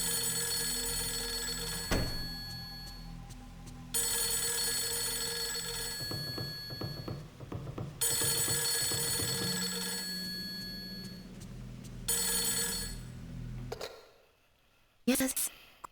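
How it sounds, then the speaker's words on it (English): Telephone in Fatal Frame III rings in repeated long bursts separated by short silences, loud and close, with brief clicks between rings and a final shorter burst at the end. "Oh, phone's ringing."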